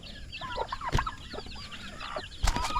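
Chickens and young chicks of both chicken and turkey flocks cluck and peep busily on a farm, with a dense layer of chirps and a few sharper louder calls near the start and end, without any talking.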